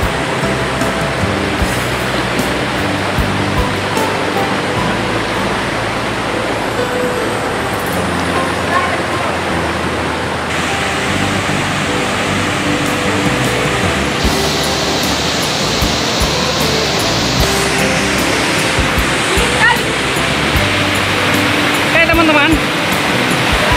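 A forest waterfall with a strong, heavy flow roars as a constant broadband rush, loud and close, filling the whole stretch without a break.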